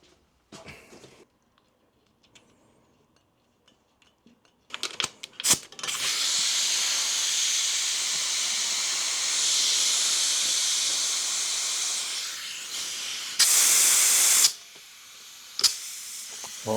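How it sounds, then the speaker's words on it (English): A compressor's air hose hisses in loud, continuous bursts while a BMW F650GS motorcycle tyre is being inflated, following a few quiet clicks and handling noises, then cutting off and returning as a sharper blast. "See if we've got any air left in the compressor."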